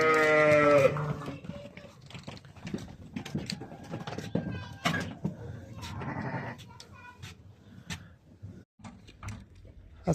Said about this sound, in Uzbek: Mana yana yangi navbatdagi qo'ylarimiz keldi.